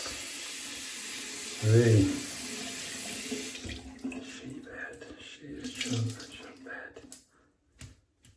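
Water runs steadily from a tap at moderate volume while a shavette razor is rinsed, then stops partway through, leaving quieter handling noises and a voice speaking under it.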